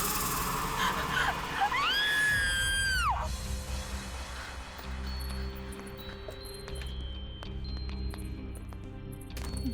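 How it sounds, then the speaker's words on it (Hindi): A woman in a horror drama lets out a long, high, wavering scream close by, then it breaks off into a low rumbling background with faint scattered knocks. "फिर ये चीख।"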